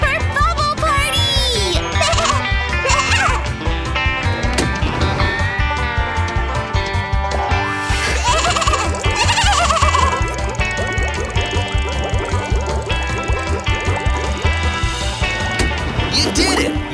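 Cartoon baby goat bleating over bright, busy animated-show music with jingles, the wavering bleats rising above the score near the start.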